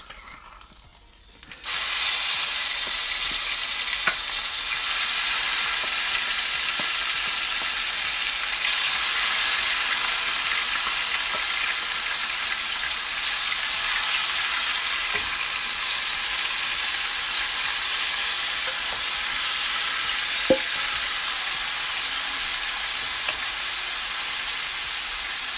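Goat meat hits a hot pot and browns for stew, giving a loud, steady frying sizzle that sets in abruptly and holds for the whole stretch, with occasional faint scrapes and clicks of stirring and no talking.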